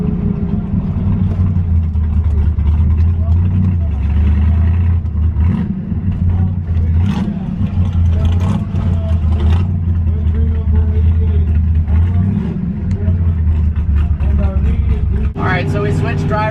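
A Shelby GT350 engine drones steadily while driving at high altitude, a loud continuous low rumble with slight shifts in pitch and a brief surge near the end, running throughout without pause.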